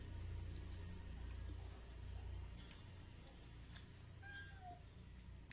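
A cat meows a few times, fairly close, over a steady low background hum with occasional faint ticks.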